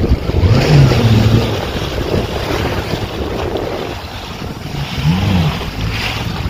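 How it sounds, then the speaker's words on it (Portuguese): Heavy sea swell crashes against coastal rocks during a rescue operation, a continuous roaring surge with two louder wave hits, buffeted by strong wind noise across the microphone. "Olha o tamanho do mar batendo nas pedras"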